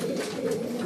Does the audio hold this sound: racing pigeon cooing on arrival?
yes